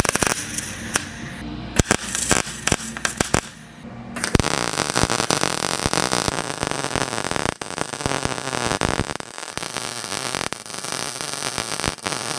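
Continuous crackling, hissing arc of tack welding mounts onto a C6 Corvette drift car, dense static-like sizzle with a few sharp pops and brief breaks between welds, close and steady throughout.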